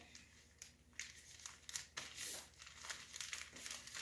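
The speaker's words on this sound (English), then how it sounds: "We're going to take one side and fold it towards the middle." Paper is folded and creased by hand into a small planting pot, giving faint, close crinkling and crumpling rustles in short irregular bursts.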